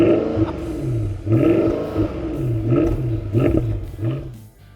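A Mercedes-AMG 6.2 litre M156 V8 engine in a garage is blipped several times, each rev rising into a deep, smooth roar and dropping back, loud and close.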